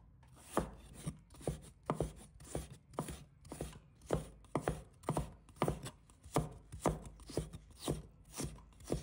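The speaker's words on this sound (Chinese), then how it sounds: "再准备1块生姜， 把它切成丝" Knife shredding ginger on a board, a steady run of fairly regular chopping knocks, close and moderately quiet, with no talk.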